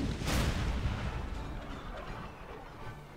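A naval cannon fires in Napoleon Total War during a sea battle in the Bay of Biscay: one deep booming blast up front, then a rolling rumble that slowly fades.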